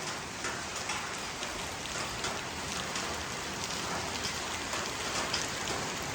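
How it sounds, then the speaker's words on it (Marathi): Heavy rain pours down steadily in a continuous, close hiss of falling drops, with no voices. "इकडे तर खूप जोराचा पाऊस पडतो आहे"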